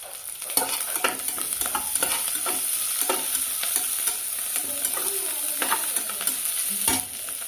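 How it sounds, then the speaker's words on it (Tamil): Medium-cut sweet potato pieces sautéing with onions in a pan for sweet potato masala, a continuous loud sizzle with frequent spatula scrapes and clinks against the pan. "ஒரு மீடியம் சைஸில் கட் பண்ண ஸ்வீட் பொட்டேட்டோவை உள்ளே போட்டு நல்லா வதக்கிக்கணும்"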